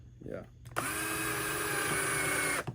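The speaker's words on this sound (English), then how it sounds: "You're just drilling it in, just testing it out." A brief voice is followed by a power drill whirring at steady speed for nearly two seconds, loud and close, then cutting off abruptly.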